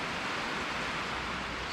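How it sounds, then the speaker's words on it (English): Steady broadband hiss of rain, constant and fairly loud throughout, heard from inside an echoey, newly insulated shop building, with no voices. "so it's raining today"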